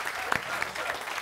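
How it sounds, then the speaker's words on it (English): Audience applause at a live talk event in Cannes, a short burst of dense clapping with a couple of sharper claps standing out near the start. "Big round of applause to thank them for the time."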